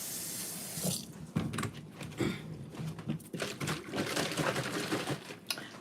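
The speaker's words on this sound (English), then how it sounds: "Okay, so I just put some more hot water in it." Hot water pours into a plastic bottle for homemade banana and blueberry wine with a steady, hissing, gurgling rush and a few clunks and knocks from handling. The sound runs continuously and close by.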